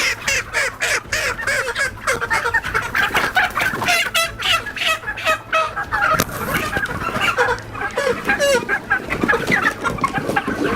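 Several chickens of different breeds clucking steadily at a market, with sharp rooster-like calls and bird chatter filling the whole stretch, loud and close amid busy background noise.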